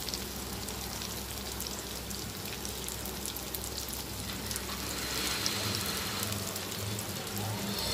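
Semolina-coated fish pieces frying in a pan make a steady, soft crackling sizzle like light rain, close by and unbroken throughout.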